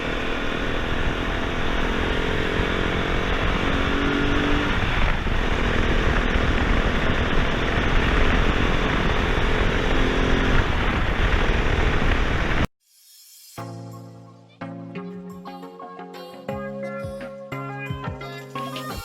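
Steady roar of an RX3i Evo motorcycle being ridden, with engine and wind noise droning without a break for about twelve seconds before giving way abruptly to music.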